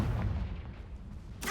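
A Confringo fire spell blasts in the Hogwarts Legacy video game, a dull booming burst at the start that rumbles through the clip, followed by a sharper bright crack near the end.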